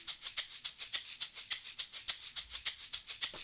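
Two shakers, one pitched low and one high, blend into a steady rapid rhythm of bright, crisp shakes repeating evenly and close up, with no voices.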